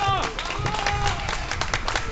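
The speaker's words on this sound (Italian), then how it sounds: "L'applauso" A political rally crowd applauds, brisk clapping with crowd noise and voices mixed in, continuous and fairly close across the short stretch.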